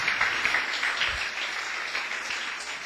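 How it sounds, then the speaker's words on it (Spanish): A church congregation breaks into sustained applause, dense, even clapping from many hands filling the room for the whole moment, with no talk over it. "bien se lo puedes agradecer dándole una fuerte ofrenda de aplauso."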